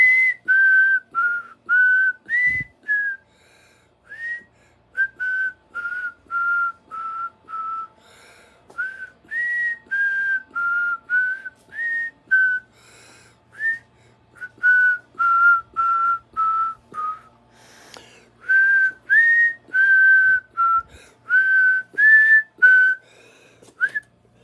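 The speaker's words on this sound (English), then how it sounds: "You want to whistle? Well, if I got enough breath, I'll give it a try." Someone whistles a tune alone in short, breathy phrases with steady pauses, close and clear against a quiet background.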